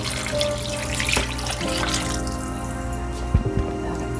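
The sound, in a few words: water poured into beef soup pot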